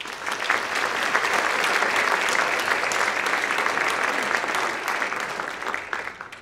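Audience applause at a member lecture on Salvador Dalí, dense steady clapping for about six seconds that fades at the end as the speaker is welcomed.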